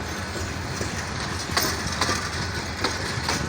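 Kurigram Express intercity passenger train hauled by locomotive 3002 running, a loud, steady broadband rumble with rhythmic clicking of wheels over rail joints, close by.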